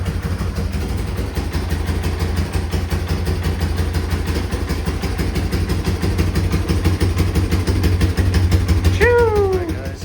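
A 1998 Yamaha Warrior 350 ATV engine, running for the first time in ten years, idles with a steady, rapid low chugging, loud and close, holding a constant rhythm; a brief squeak sounds near the end.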